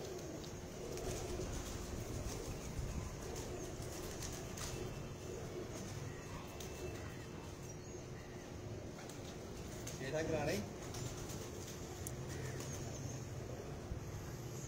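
Pigeons at a Lahore pigeon market cooing softly amid continuous outdoor background noise and nearby talk, with a brief louder burst partway through.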